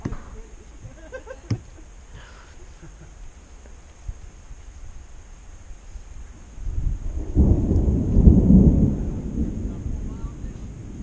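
Thunder from a lightning storm over a mountain trail in the Sierra Nevada rolls in as a long, loud, deep rumble that swells and lingers after a stretch of quiet outdoor ambience with a brief voice.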